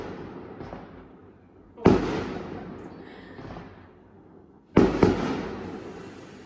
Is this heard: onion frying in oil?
no